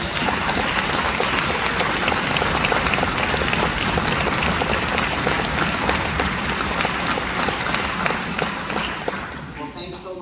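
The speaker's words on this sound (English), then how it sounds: "Could they stand and take a round of applause and say thank you for your great teaching?" A school audience at a sixth-grade band concert gives a sustained round of applause for the band directors, loud and dense throughout, then thinning out at the very end.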